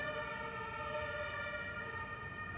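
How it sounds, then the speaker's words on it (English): A siren drones outside with steady sustained tones at a moderate distance, a flat unbroken wail with no talk over it. "just waiting for the siren"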